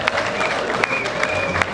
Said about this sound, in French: Elle marcha, puis avala et nous applaudissons